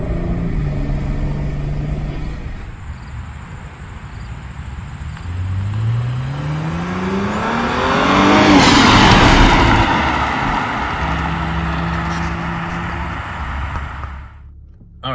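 Cadillac CTS-V fitted with a ZZP aftermarket intake driving on the road, its engine note rising through a strong acceleration pull to a loud peak, then settling into steady cruising.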